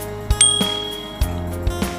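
A notification bell sound effect for a subscribe reminder rings as a few bright metallic dings with short ringing tails, some clicks between them, with no talking.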